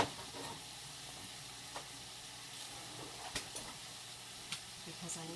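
Artichoke, jalapeno and portabella stir fry sizzling in a pan, a faint steady crackle with occasional light stirring clicks, quiet and close, with a voice in the background at times.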